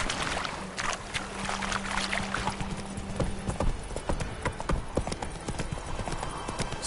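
Roach, a horse in The Witcher III video game, gallops with rapid, steady clip-clop hoofbeats that stay close and fairly loud throughout, alongside a low sustained game ambience.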